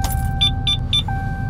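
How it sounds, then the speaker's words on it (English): A diesel pickup truck engine idles with a steady low rumble throughout, while a few short, bright electronic chimes ring out over it. "Good old Cummins noise."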